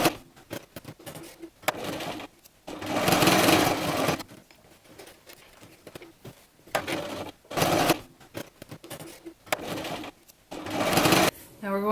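A home sewing machine stitches fabric strips for a DIY dog snuffle mat in several loud, whirring bursts separated by quiet pauses, with a person talking softly between runs.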